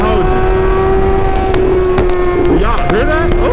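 A sportbike exhaust, a Suzuki GSX-R 750 or Kawasaki ZX-10R, held at a steady loud drone close by, with a couple of quick rising revs near the end.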